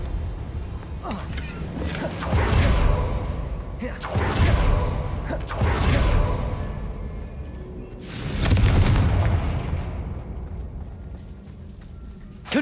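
Spell blasts from Confringo and Bombarda in Hogwarts Legacy go off as four heavy booming bursts spaced a couple of seconds apart, each swelling and fading over a low rumble, with game music and ambience running beneath.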